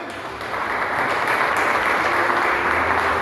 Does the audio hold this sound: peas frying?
no